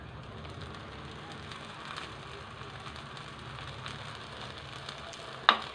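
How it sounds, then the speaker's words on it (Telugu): Bombay rava dosa made from suji sizzles steadily in oil on a hot pan, a soft continuous frying hiss with one sharp click near the end. "ఆయిల్ వేసి దీన్ని కూడా రెండు వేపులు కాల్చుకొని తీద్దామండి."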